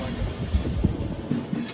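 The Prasanthi Express rolls along behind a WAP-7 electric locomotive, heard from a Second AC coach as a close rumble with rhythmic wheel knocks and rattles.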